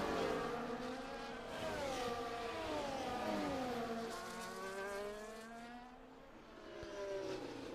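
Race car engines in the F1 24 racing game at the Spa circuit, a steady, faint whining drone that rises and falls in pitch through gear changes and passing cars.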